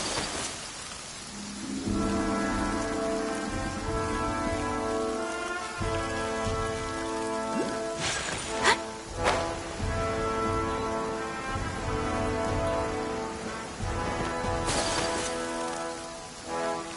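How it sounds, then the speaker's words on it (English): Steady rain falls throughout in the video game Genshin Impact beneath a sustained tonal music bed, with a few sharp cracks standing out. "Let us find shelter from the rain."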